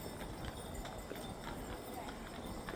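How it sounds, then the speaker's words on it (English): Hooves of a horse pulling a carriage clip-clop steadily along Main Street in St Charles at Christmastime, a faint rhythmic patter under street noise and distant voices. "that the same horse-drawn carriage?"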